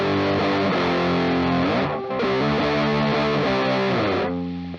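An electric guitar strums sustained chords through a Big Muff style fuzz pedal, thick and heavily distorted, with one brief break before the chords ring on loud and close.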